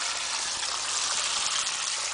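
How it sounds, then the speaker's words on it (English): Water rushes steadily from a pipe at the front of a house during a water test, a constant gushing hiss with no pauses and no speech. "You can see water is running, there you go."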